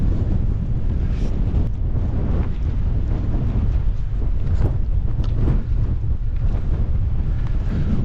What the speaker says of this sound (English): Wind's blowing in about 30 now, 35 maybe